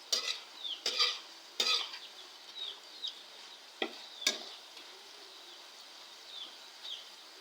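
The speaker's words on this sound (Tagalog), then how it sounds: "Kaya siyang haluin para maluto lahat." A spoon or spatula stirs banana chips frying in a pan, making irregular scraping clinks and soft rustles over a faint sizzle, close by and without talk.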